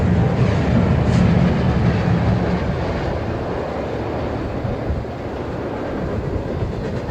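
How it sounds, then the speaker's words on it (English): A freight train carrying B&O and Western Maryland coal loads rolls past on the Reading line, producing a loud, continuous broadband rumble and rattle of wagons throughout with no voices. "On the first train you can see B&O and Western Maryland coal loads"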